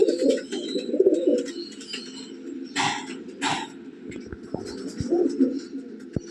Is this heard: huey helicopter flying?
no